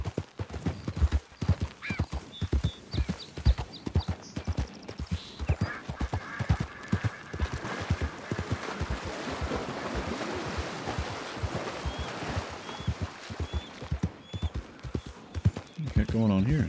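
A horse clip-clops at a steady walking rhythm in Red Dead Redemption, hooves thudding close throughout near lapping water, with occasional whinnies and someone talking over it.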